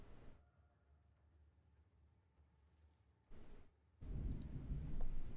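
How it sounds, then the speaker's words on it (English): Thunder from a thunderstorm swells into a deep, heavy rumble near the end after a quiet, faintly humming lull, growing louder and rolling on without any voices. "We're in the middle of a thunderstorm, so fun stuff."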